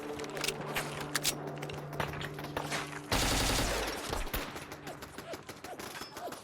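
Pipe gun firing in Fallout 4, a loud, dense burst of rapid gunfire in the middle of an ongoing firefight with other shots scattered before and after, heard under game noise and talk.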